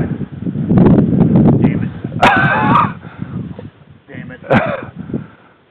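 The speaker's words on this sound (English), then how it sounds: "Dogs are bad dogs" Dogs bark and yip in short bursts during a pheasant hunt on a farm, mixed in with loud nearby conversation between several men.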